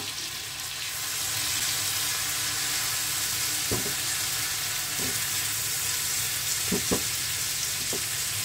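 Tomatoes and long beans fry over a high flame with spices being stirred in, a steady loud sizzle filling the clip, punctuated by a few sharp scrapes and knocks of the spoon against the pan.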